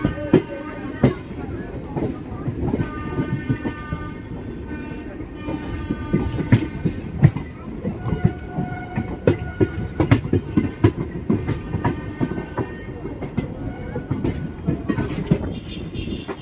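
A local passenger train runs on the Bandel to Naihati line near Hooghly Ghat, its wheels clattering over rail joints in a steady, rhythmic clickety-clack with the rumble of the carriages throughout.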